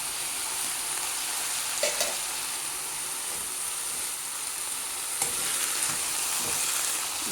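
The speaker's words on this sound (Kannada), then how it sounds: "ಇದು ಸ್ವಲ್ಪ ಘಮ ಅನ್ನಲಿ ಅಂತ ಎಣ್ಣೆಲಿ ಬಾಡಿಸ್ತಾರೆ" Steady frying sizzle and hiss of ginger and gooseberry sautéing in hot oil, with a few soft clinks of stirring, no voices.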